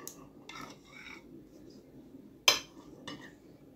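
Cutlery clinking against a bowl while a salad is mixed, a few scattered light chinks with one sharper clink, quiet and close, with soft background noise and no clear talk.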